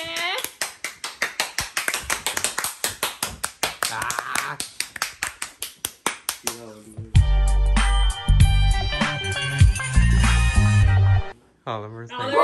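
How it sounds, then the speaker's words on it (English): Quick, rhythmic hand claps from one or a few people cheer the chef of vegan carrot hot dogs, crisp and close for several seconds before music takes over. "Applause to the chef!"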